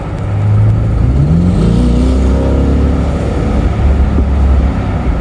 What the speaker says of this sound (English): it sounds like a muscle car. It sounds pretty badass in loud mode.